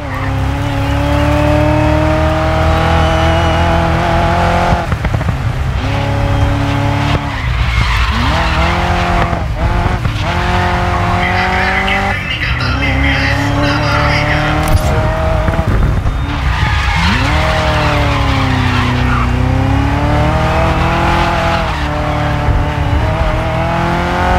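A Ford GT40 race car in the video game Grid Legends roars with a loud, sustained engine note, its pitch rising and falling through gear changes while tires skid and squeal through corners.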